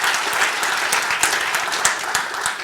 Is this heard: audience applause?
yes